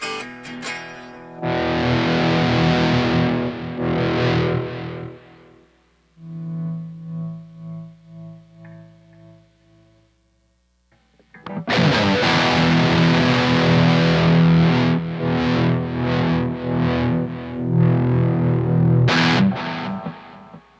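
A Gibson Les Paul electric guitar on the neck pickup, warm and distorted, plays two phrases of chords and notes, separated by a quieter sustained passage that fades before the second loud section.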